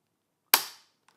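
A single sharp crack rings out as a rifle trigger is pulled, a short loud snap decaying quickly into silence with a tiny click after.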